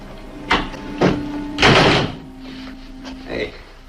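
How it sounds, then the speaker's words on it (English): A door is closed indoors in a Western film scene, a few knocks and a thudding swing and latch, with talk and a steady hum around it. "You can start by closing that door."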